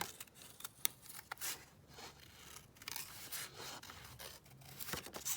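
Scissors snip through a Stamperia paper tag, cutting it out in a run of short, close, quiet crisp snips and rustles with no talking.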